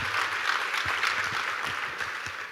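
Steady applause from a large audience at a student session at IIT Delhi, dense and continuous with a few sharper individual claps standing out, holding at an even level throughout.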